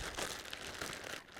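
A brief, soft crinkling of a plastic freezer bag holding marinade as it is shaken, quiet rustles over about a second.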